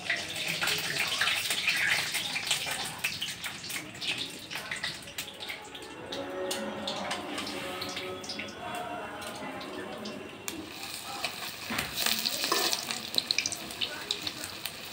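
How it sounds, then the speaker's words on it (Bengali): Light rain falls outdoors in a steady, dense hiss of drops with a few louder spatters, continuing throughout while people talk faintly nearby. "বৃষ্টি শুরু হচ্ছে, ফুটা ফুটা বৃষ্টি পড়ছে।"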